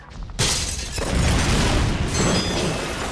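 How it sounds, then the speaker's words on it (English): A guard tower blown up in the video game Bedlam, with a sudden loud rumbling boom and a crashing, shattering wash of glass that roars on and slowly thins. "They don't really explode, or I can't see the explosion and just the glass"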